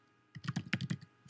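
Password being typed on a computer keyboard while logging into a Drupal site on a Mac: a quick burst of about eight close, crisp key clicks, a short pause, then one more firm keystroke.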